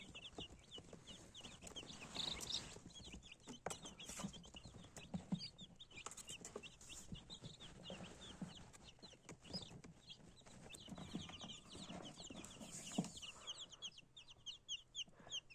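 Busy chirping and peeping from a group of young crested chicks, many small high calls overlapping continuously, with occasional clucks and soft rustling close by.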